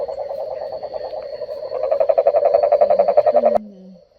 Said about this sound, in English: There's actually dozens of these bullfrogs in this lake.